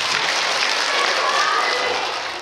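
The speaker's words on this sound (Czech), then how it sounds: "zatleskejte si, je to loď!" A concert audience at a live children's music show claps together, a dense, even burst of applause that holds steady and tapers slightly at the end, no voices over it.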